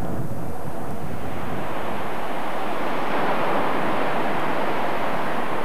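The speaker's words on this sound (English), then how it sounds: "Prince Philip, Duke of Edinburgh, aboard the Royal Yacht Britannia in stormy seas" Stormy sea in a force 8 to 9 gale off Anglesey, heard from aboard the Royal Yacht Britannia, as a loud continuous roar of crashing waves and heavy wind buffeting the microphone.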